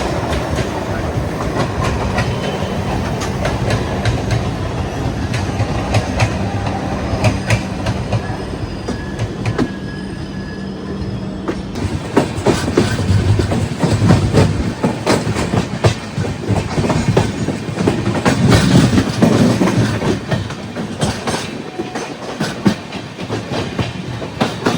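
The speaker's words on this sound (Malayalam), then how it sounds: "നമ്മുടെ ട്രെയിൻ ഇവിടെ നിന്ന് അങ്ങനെ എടുത്തിരിക്കുകയാണ്" The Yog Nagari Rishikesh–Trivandrum North express rolls along in the monsoon with a continuous loud rumble and rhythmic clickety-clack of wheels over rail joints, heard from inside the train, with the clatter growing busier about halfway through.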